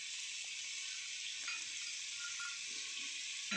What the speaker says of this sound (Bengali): আলুটা আমি ভালো করে ভাজা করে নিচ্ছি